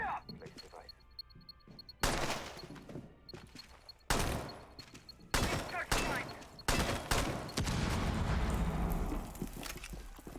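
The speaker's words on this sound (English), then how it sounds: "we do see some shots fired" Gunfire in the tactical shooter Rainbow Six comes from a collegiate esports match, with several sharp shots and bursts that hit abruptly, then a dense, loud stretch of firing and impacts. No one speaks.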